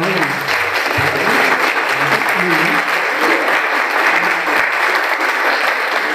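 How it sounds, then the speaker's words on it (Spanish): Strong, sustained applause from a conference audience at an Adobe México event, dense clapping filling the room at full volume and holding steady throughout, with a faint murmur of voices underneath. "diéramos un aplauso muy fuerte a Tsiri por acompañarnos el día de hoy."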